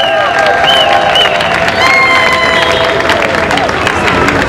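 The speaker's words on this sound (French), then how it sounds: "Applaudissez pour vous-même." A large crowd at a prayer gathering for the nation in the Democratic Republic of the Congo claps and cheers loudly, with whistles, shouts and excited voices layered over sustained close applause.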